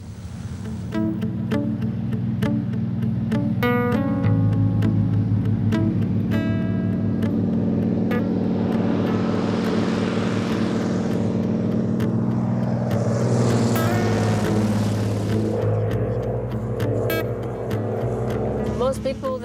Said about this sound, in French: La plupart des gens qui viennent ici préfèrent voler avec un beaver, à cause du son typique du moteur.